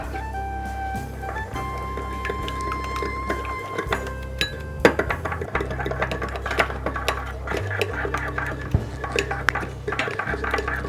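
Spices, black pepper, paprika and salt, being mixed in a bowl, with light clinks and scraping taps of a utensil over a steady low background hum.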